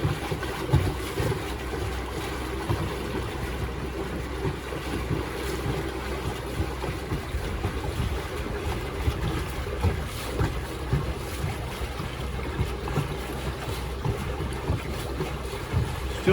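Wind buffets steadily across a river aboard a houseboat, a continuous broad rumble and hiss with lapping water beneath and no voices.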